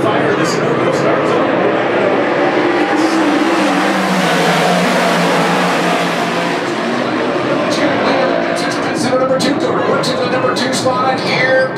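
Dirt track race cars roar around the oval during a heat race at Orange County Super Dirt Week, their engines a loud, continuous drone with an announcer talking over it.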